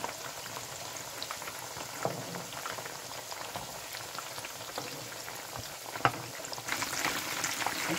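Homemade kebabs fry in a little oil in a pan, giving a soft, continuous sizzle with scattered pops and crackles, faint and steady throughout.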